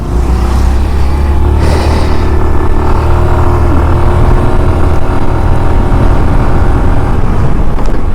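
A Suzuki Access 125 scooter accelerating on the road, its engine droning loud and steady throughout with rising revs, mixed with rushing wind noise and no talking.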